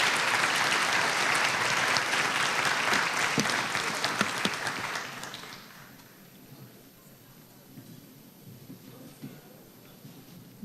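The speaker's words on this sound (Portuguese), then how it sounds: "uma salva de palmas para vocês" Audience applause at a conference of administrators, a dense steady wash of many hands clapping that lasts about five seconds, then fades out into quiet room tone.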